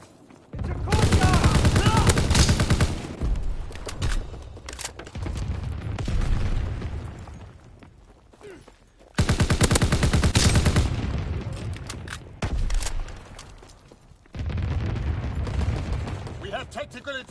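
Rapid bursts of gunfire and heavy battle noise from the Call of Duty WW2 video game fill long stretches, with automatic fire and booms in loud dense waves broken by brief quieter gaps, and voices in the background.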